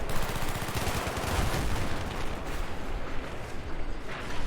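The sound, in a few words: gunfire in Battlefield 3 video game mission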